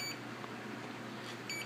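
Short electronic beeps from a Turnigy 9XR radio transmitter with FrSky, set to failsafe, sound faintly at the start and end, over a steady background hum.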